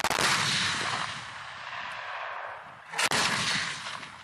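Live-fire shots from a brigade tactical exercise with artillery in a river-crossing combat scenario, heard as a loud sharp blast with a long rolling echo, then a second close report about three seconds later.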